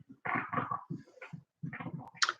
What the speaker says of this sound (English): Don't mind my dog, he's chewing something.